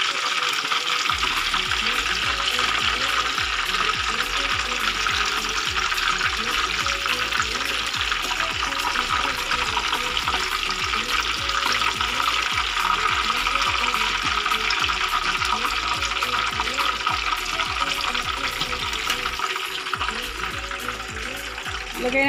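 Cordon bleu deep-frying in hot oil, a continuous loud crackling sizzle with dense popping bubbles throughout.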